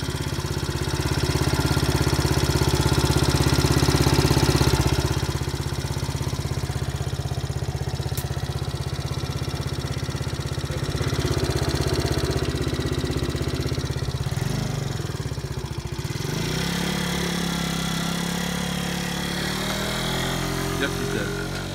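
2018 TaoTao scooter engine running on a test ride, a steady, fairly loud mid-pitched drone with a rise and dip in the middle and a drop toward the end, with a voice heard faintly at times.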